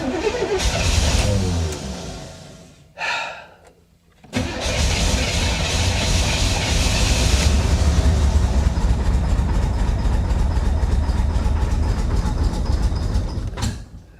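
A 1985 Chevy Corvette pulled from a Florida swamp cranks and fires, stumbles briefly to near silence, then restarts and runs loud and rough, a steady throbbing engine drone held for about ten seconds.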